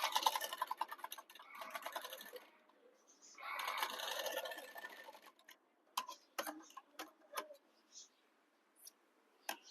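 Sewing machine stitching a hook strip onto a blouse, close bursts of rapid needle clatter alternating with pauses, then scattered sharp ticks and clicks from handling the fabric.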